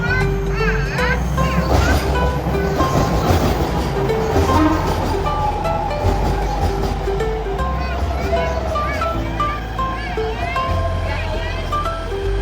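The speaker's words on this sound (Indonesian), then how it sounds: "Sekarang kita naik kereta lagi" A Jakarta MRT train rides along its rails with a steady rumble and a rising whine. Children chatter and people talk throughout the crowded ride.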